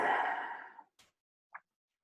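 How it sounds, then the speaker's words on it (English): A single slow, deep sigh-like exhale fades out over nearly a second, followed by two faint, brief breath sounds, each separated by quiet during a calm guided relaxation. "You might want to take 3 or 4 deep breaths."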